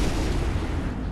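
Ion cannon strike in Command & Conquer, a short, dense roaring blast that fills the moment with loud, rumbling noise and fades slightly at the end.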